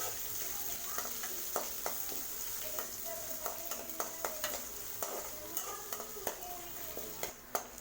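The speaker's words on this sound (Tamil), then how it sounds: "இதோட நம்ம கட் பண்ணி வச்சுருக்கிற பெரிய வெங்காயத்தை நல்லா வதக்கி விடுங்க." Chopped large onions sautéing in a pan for a brinjal and black chana poriyal, a soft continuous sizzle with frequent light scraping and tapping of a spoon against the pan, fairly quiet and close, no voices.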